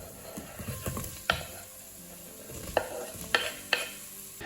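Apples cooking in melted butter in a saucepan, a low steady sizzle broken by several sharp scraping stirs of a utensil against the pan, close and fairly quiet, no voices.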